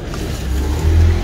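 A Yamaha RX King motorcycle engine idles with a steady low rumble, then revs briefly louder toward the end.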